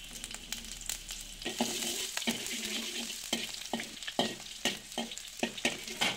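Garlic and ginger frying in a pan, a soft sizzle that starts low and then swells, with quick scraping stirs and spatula taps throughout.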